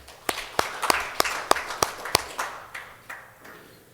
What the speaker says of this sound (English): Let's give Chris a round of applause again.